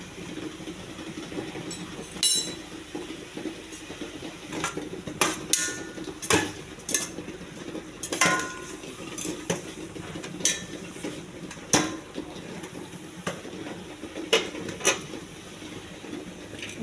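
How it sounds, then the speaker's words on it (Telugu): Grated carrot being stirred in a pan on the stove, with repeated irregular clinks and scrapes of a utensil against the metal and a soft sizzle underneath, without any talk. "క్యారెట్ తురిమేసి కొంచెం అటు ఇటు తిప్పాలి"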